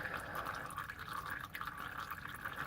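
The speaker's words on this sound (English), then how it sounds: "we're almost done draining." Transmission fluid drains from a 2001 Ford Escape into a pan, a faint, steady trickling and splashing stream that continues without pause.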